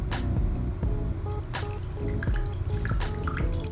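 Hot water at about 160 to 170 degrees splashes and trickles onto a bamboo matcha whisk, a close, loud run of drips and liquid spatter with no speech over it.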